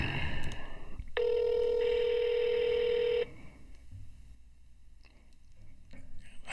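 A phone call rings out over a speakerphone held right up to the mic, a steady electronic ring tone lasting about two seconds, loud and close, with faint room noise before and after.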